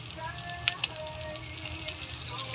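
Pork and tofu sautéing in oil in a pan, a steady soft sizzle throughout with two brief sharper crackles near the start, no talking.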